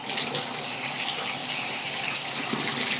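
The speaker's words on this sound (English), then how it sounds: "Obviously, go back and clean my brush." A makeup brush is rinsed under running water, producing a loud, continuous gushing stream close by, with no talking.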